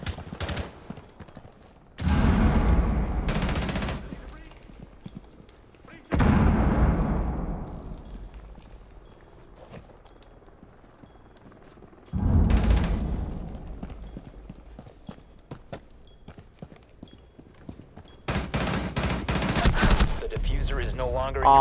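Gunfire in Rainbow Six Siege, several loud bursts of rapid shots separated by quieter stretches, the last burst continuing to the end.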